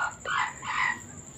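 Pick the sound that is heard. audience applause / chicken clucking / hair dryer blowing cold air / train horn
chicken clucking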